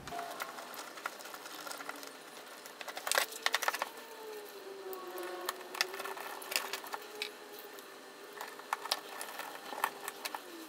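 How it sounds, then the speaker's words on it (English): Small screws being driven into a Traxxas Rustler 4x4 VXL RC car during a rebuild, heard as a steady run of close mechanical clicking and ratcheting with a few sharper taps, no voices. "Start putting the screws in."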